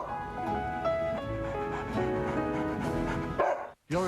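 A dog barks repeatedly with yips and whimpers in a TV commercial, sounding over a busy bed of music, then cutting off abruptly near the end.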